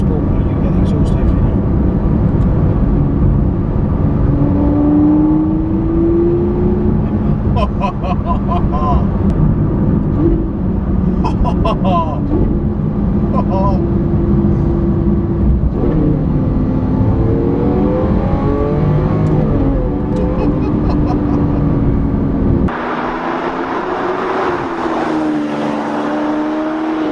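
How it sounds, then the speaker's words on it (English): A Lamborghini Aventador SV in sport mode drones steadily from the inside, its exhaust rising and falling through several revs, with a change in tone near the end; speech is likely mixed in beneath the engine. "Should be able to put it in sport mode, you can get the exhaust over"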